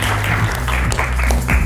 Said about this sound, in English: Let's clap him.